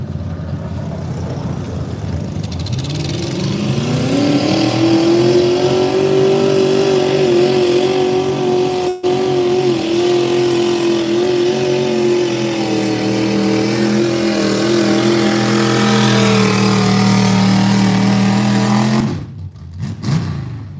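A garden tractor engine at a benefit tractor pull in Ohio revs hard and holds a loud, strained drone for nearly twenty seconds, pitch rising early and then sustained close by before cutting off abruptly.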